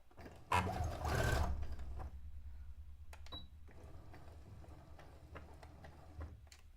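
A sewing machine stitches a test swatch of white fabric for a dress, a loud burst of rapid whirring near the start, then quieter intermittent clicks and faint handling sounds.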